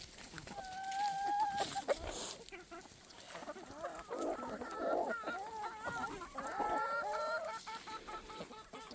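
A barnyard mix of chickens, including a golden Wyandotte, clucks and calls nearby in repeated, uneven bursts, with a few higher squawks.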